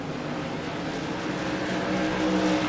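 Modified race cars circle the Bull Ring short track in an evening race, a steady roaring engine drone holding at even loudness throughout with no voices.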